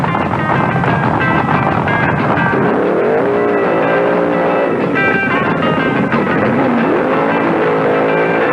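Loud 1973 drag race cars at the IHRA Northern Nationals roar down the strip, engines howling and rising in pitch as they launch and accelerate away, with wind buffeting the microphone.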